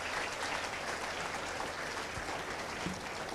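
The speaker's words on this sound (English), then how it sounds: "give yourself a good round of applause for that" A Freshers' Day crowd at a college event applauds, a soft, even spread of clapping heard at some distance, continuous and steady with a few louder claps near the end.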